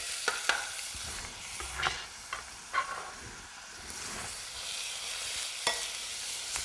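Diced onion frying in coconut oil in a pan, a soft steady sizzle with several sharper stirring clicks and scrapes spread through, fairly quiet and close with no voices.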